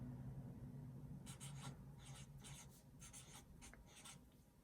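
Pen or pencil scratching out words by hand in bursts of short strokes, close and soft over a steady low hum, with no talking.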